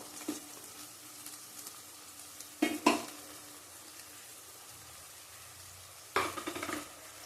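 Water from a rinsed bowl of ground green chilli paste hits a hot cooking pan in two short sizzling bursts, near and fairly loud against a quiet kitchen background, with no talking.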